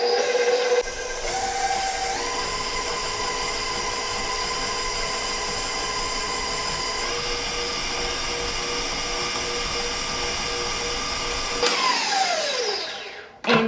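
An electric mixer creams two sticks of softened butter in a bowl, a steady close motor whine that steps up in speed twice, runs evenly for several seconds, then winds down and stops.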